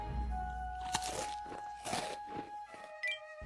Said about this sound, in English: It sounded like a small animal munching on sunflower seeds. A crunchy, strange sound.